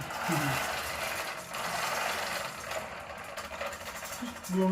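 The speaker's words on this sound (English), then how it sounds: "So this fan, you can tell it works. Blows just enough air into here" A hand-crank fan on a portable coal forge whirs in a steady, fairly soft mechanical rush of air with a faint gear rattle, continuing throughout without speech.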